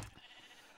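A sheep bleats on a sheep farm in a video game, one short, faint bleat trailing off after a brief thump.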